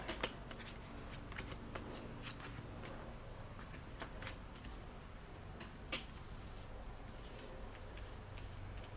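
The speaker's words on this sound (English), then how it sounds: "The Germans draw a new command card." Card handling while a command card is drawn in the Memoir '44 board game: soft, close papery rustles and faint clicks in a quiet room, with brief sharper snaps scattered throughout.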